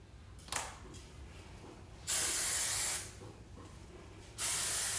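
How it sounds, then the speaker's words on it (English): Hairspray hisses from an aerosol can onto curled, teased cheer hair in two loud, close bursts, the first nearly a second long and the second cut off at the end, with a faint brief spritz before them. "I will take more hairspray and a comb to really get all those little"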